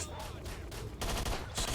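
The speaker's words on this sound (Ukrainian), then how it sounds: "Хто там стріляє, не понимаю." Bursts of rapid gunfire crackle in quick succession in the video game S.T.A.L.K.E.R.: Shadow of Chernobyl, a dense fusillade heard at moderate distance with no voices.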